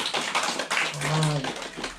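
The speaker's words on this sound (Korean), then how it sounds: "하나님 앞에 감사 박수 올리시기 바랍니다" A church congregation gives a round of thankful applause, a quick scattered patter of hand claps with a brief low murmur of voices partway through.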